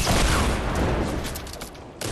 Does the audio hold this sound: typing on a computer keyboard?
no